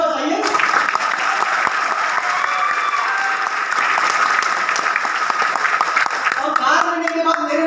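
Audience applause at a Hindi-speaking business gathering, dense sustained clapping from a large crowd, loud and continuous for several seconds.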